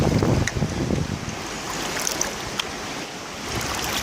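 Water sloshed and poured out of a gold-panning pan outdoors, a close splashing rush that settles into a softer trickle, with some wind against the microphone and no talking.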